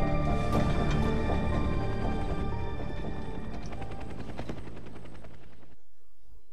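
Rotor chop and engine drone of a helicopter in the PlayStation 2 video game 24: The Game, a loud steady rhythmic whirring with scattered gunfire-like bursts, cutting off sharply near the end to a faint residual hum.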